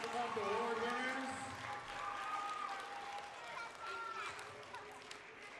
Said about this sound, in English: One more big round of applause for all of our kindergarten Gator of the Month Award winners.